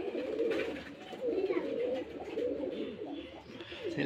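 Pigeons coo steadily at a Rajshahi Giribaz pigeon farm, several soft throaty calls overlapping in a continuous low murmur close by, with no talking.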